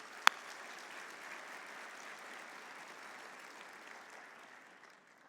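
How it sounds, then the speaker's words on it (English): A roomful of people at a FIRST Championship Dean's List luncheon applauds the selection committees, a sharp thump at the start followed by a steady, moderate wash of clapping that gradually tapers off. "let's give them a round of applause for their work"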